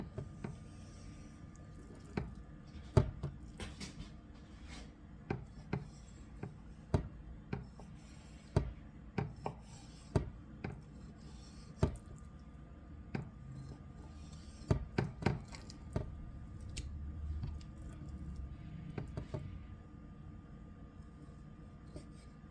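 Boning knife cutting chicken into nugget-sized pieces, a steady series of sharp, close chops and taps on a board at an irregular rhythm, with faint wet squishes between strokes and no talking.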